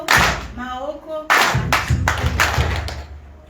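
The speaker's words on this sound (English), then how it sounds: "Maoko is clapping hands" A group claps hands in a steady chant-along rhythm at an outdoor people's summit gathering, sharp claps loud and close amid voices and crowd noise.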